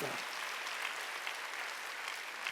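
A church congregation applauds during a Sunday worship sermon, a continuous, even patter of many hands clapping at moderate volume, with no clear voices over it.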